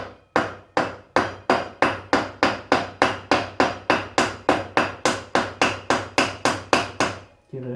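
Rapid, even hammer blows driving a part onto the front fork axle of a ZX9R motorcycle, about two dozen sharp metallic strikes in steady rhythm, close and loud.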